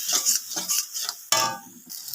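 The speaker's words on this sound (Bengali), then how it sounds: "লঙ্কা হলুদ গোলা জলটা এবার দিয়ে দেবো মশলার মধ্যে, আবারও ভালো করে কষিয়ে নেব" A spatula scrapes and clinks in a pan as spice paste is stirred with chilli-turmeric water for a cauliflower dish, with soft rhythmic strokes, then a sudden hissing burst as the liquid hits the hot pan, fading slowly.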